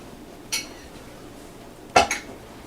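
Chunks of potato and carrot are dumped into a pot in a kitchen, giving two brief, close clattering clinks of food and cookware about a second and a half apart, with quiet in between.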